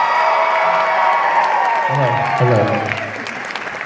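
A comic convention crowd at Wizard World St. Louis 2019 cheers and claps for a guest, a dense wash of applause that fades toward the end while a voice speaks over it.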